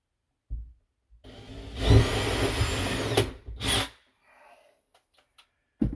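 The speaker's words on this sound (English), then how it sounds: "what I'm going to do is just drill a hole in the center" A power drill whirs up and runs for about two seconds, drilling a hole in a ceiling, stops, then gives a short second burst; brief knocks and scrapes surround it.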